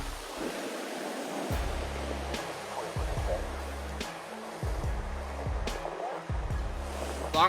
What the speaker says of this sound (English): High waves seem to want to swallow everything, beautiful but also scary.